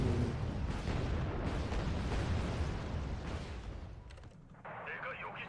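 Missile launches and explosions in Wargame Red Dragon, a dense, continuous roar of booms and blasts that fades near the end, with a brief burst of game speech.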